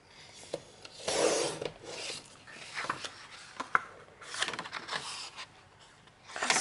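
Paper is cut for a scrapbook photo album page, making intermittent close scratchy rasping strokes and soft rubbing scrapes with irregular pauses, with no talking.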